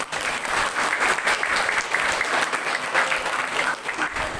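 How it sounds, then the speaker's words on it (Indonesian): Audience applause at an Isra Mi'raj commemoration at an Islamic boarding school, a dense, sustained round of clapping from a large crowd filling the whole few seconds. "Tepuk tangan untuk dia."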